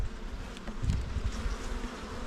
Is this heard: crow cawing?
no